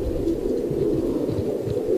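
Iranian pigeons cooing on a rooftop loft, a steady, low throaty coo repeating close by and fairly loud, with no talking over it.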